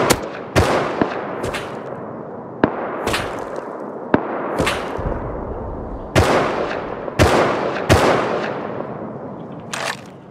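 Video game gunfire: about a dozen sharp, loud single shots with echoing tails, spaced irregularly and sometimes in quick pairs, with no talk.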